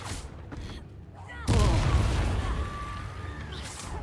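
Incendio fire spell in Hogwarts Legacy combat lets out a sudden loud whooshing burst that roars on for a couple of seconds, with a spoken incantation and brief voices around it.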